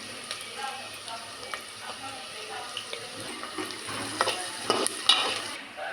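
Browned onions sizzling in a pan with turmeric for Telangana-style boti curry, a low steady fry under scraping stirs and clinks of a spoon, with faint background voice.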